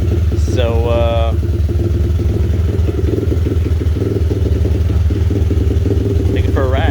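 A 2021 X-Pro Storm 125cc four-stroke dirt bike engine idles with a steady, loud, close mechanical putter, while someone talks over it at the start and again near the end.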